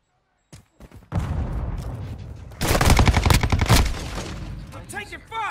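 Gunfire in the video game Call of Duty Modern Warfare 2 opens with a few single shots, then a sustained rapid burst of automatic fire that builds into a loud crackling volley, with voices speaking underneath.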